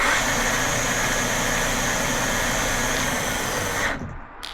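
Electric motors of an MBS Agent electric mountainboard run steadily as a loud, even whir with a high whine, then cut off abruptly near the end.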